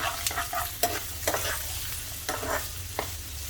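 Chopped onion and two green chillies fry in about four spoons of oil for Sindhi egg bhurji, a steady close sizzle broken by several sharp scraping stirs of a spoon against the pan.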